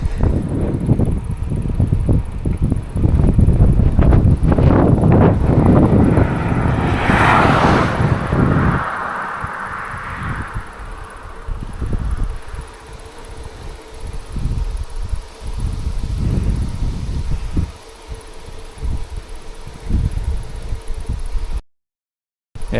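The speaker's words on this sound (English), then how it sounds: "when the wind is pushing like this" Strong wind buffets the microphone while cycling along a country road past fields, a loud roar that rushes and gusts at first, then eases into intermittent bumps and rustles.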